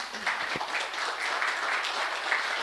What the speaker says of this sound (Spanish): Gracias, Víctor, un aplauso.